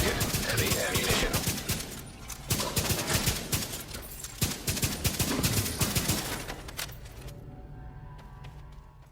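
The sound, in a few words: Merciless rifle firing in a video game (The Division 2)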